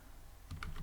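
Typing on a computer keyboard while coding in Python: after a quiet pause, a few soft, close key presses tap out in a brief quick cluster.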